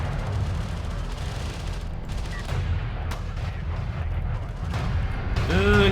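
Railgun fire in Homeworld: Deserts of Kharak during a competitive match, heard as scattered heavy booming impacts and sharp cracks over a dense rumbling battle bed, with a rising whine near the end.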